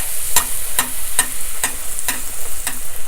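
Whole wheat poori fries and puffs in hot oil with a soft, steady sizzle, punctuated by a regular series of sharp little clicks or taps about half a second apart, close by with no talking.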